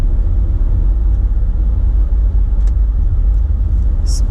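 A car cruises east on the I-96 highway, its loud steady road rumble and tire noise droning without a break, with a few faint light clicks near the end.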